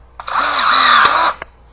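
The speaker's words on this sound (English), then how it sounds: "We're going to use our cordless battery powered tool that has a special attachment at the end that sets rivets." A cordless battery-powered drill with a rivet-setting attachment whirs steadily for about a second as it sets a rivet, loud and close, with a click at trigger press and another at release, no voices.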